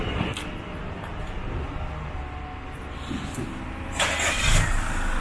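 A car engine starts by remote starter, turning over with a low rumble that settles into a quiet idle, then swells slightly near the end amid faint background sounds.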